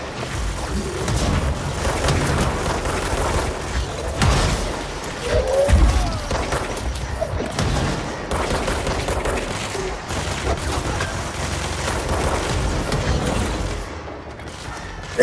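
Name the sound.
explosions and gunfire in the video game Control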